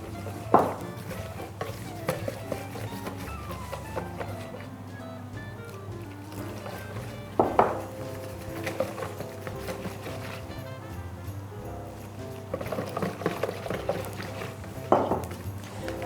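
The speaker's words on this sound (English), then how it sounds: "So you do want to completely whisk through before you add anything else." A whisk scrapes and clinks steadily in a bowl as custard of egg yolk and cream is beaten. Sharper knocks against the bowl come every few seconds over a constant low background hum.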